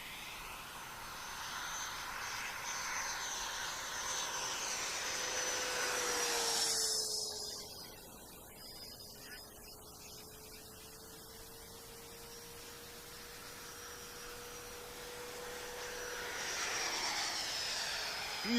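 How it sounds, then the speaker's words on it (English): A model F-16 jet on a radio-controlled flight roars past with a steady high turbine whine and a rushing surge as it passes close, easing off for a while and then building again toward the end. "Beautiful flying jet."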